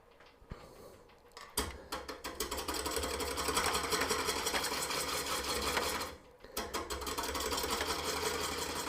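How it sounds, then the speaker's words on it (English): A wood lathe turns a green cherry bowl blank, its motor humming in a steady, fairly quiet drone after starting up. The hum dips briefly near the six-second mark, then resumes. "once I get it trued up here, I'll be able to turn the lathe speed up a little bit"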